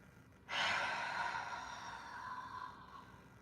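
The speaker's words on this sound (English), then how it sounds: "Take a deep inhale, breathe." A single deep inhale during a gentle morning yoga session, a soft, airy breath that swells quickly and then trails off slowly, close and quiet, with no talking.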